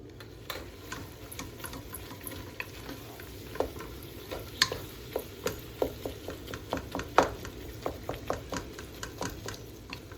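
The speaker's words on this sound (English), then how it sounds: "So here our meat's browning up" Ground meat for chili browning in a pan, with a quiet steady sizzle under a run of scraping stirs and clicks from a utensil against the pan, close and fairly soft.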